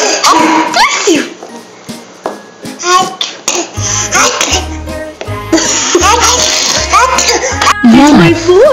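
A man sneezes loudly, followed by babies giggling and imitating the sneeze with their own voices, with bursts of laughter and short child vocalizations close by.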